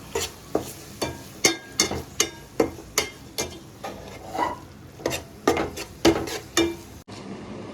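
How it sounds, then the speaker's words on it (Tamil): Tomatoes and onions being sautéed in a pan for egg bhurji: a spoon knocks and scrapes against the pan in a steady rhythm of sharp clacks over a low sizzle, close and fairly loud, with no talking. "நல்லா வதக்கி கொடுத்துக்கலாம் டொமேட்டோவையும்"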